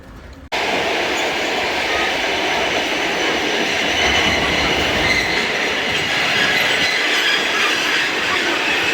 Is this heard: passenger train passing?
yes